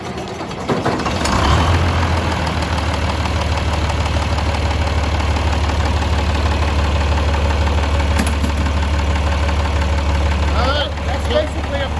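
An old John Deere 4010 tractor engine cranks and catches from cold, then settles into a loud, rough, knocking idle that chugs steadily up close.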